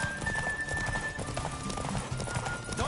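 Rapid hoofbeats of a galloping horse in the video game The Witcher 3, a quick rhythmic clip-clop driving under ambient noise, with a brief whinny-like tone and a faint voice in the background.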